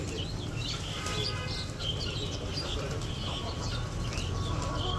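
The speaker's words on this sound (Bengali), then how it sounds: "দেখুন কিভাবে কবুতর খাচ্ছে।" Pigeons feed alongside ducks and chickens, with soft wing flutters, faint coos and light chirps mixed into a continuous, fairly quiet outdoor murmur.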